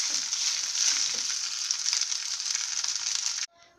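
Coconut rice stirred in a hot pan, giving a continuous bright sizzling hiss with faint scraping for about three and a half seconds before cutting off abruptly, heard alone without speech.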